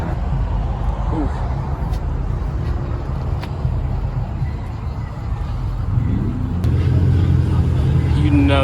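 A squatted OBS Chevy truck's loud engine rumbling steadily nearby, with a deeper surge toward the end, as people talk over it.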